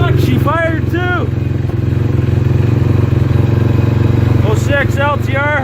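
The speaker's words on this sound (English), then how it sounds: "I did not think it was going to fire, but she fired up." Motorcycle with hot cams, a ported head, a GE piston and a Yoshimura exhaust, idling loudly and steadily right after a cold start. The engine drone is close and continuous, and people talk over it.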